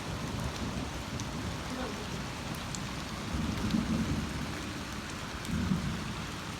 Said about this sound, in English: This storm is crazy.